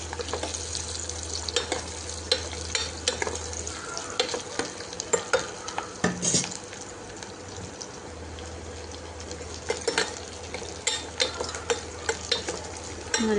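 Sliced onions with two green chillies sautéing in a pan for mutton egg masala, a steady close sizzle broken by repeated scraping stirs with a spoon, with no voices.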